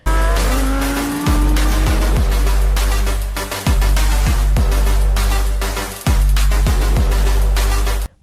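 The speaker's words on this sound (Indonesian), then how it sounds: "Widih, ini ada mobil sport." A small toy sports car makes loud racing engine sounds with repeated sharp tire squeals. The revs climb and drop over and over, broken by brief pauses.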